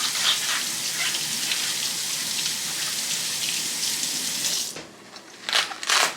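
Water runs steadily from a kitchen tap while food is rinsed, a continuous close splashing hiss that cuts out near the end, followed by a few brief clatters.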